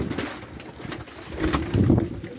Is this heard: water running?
no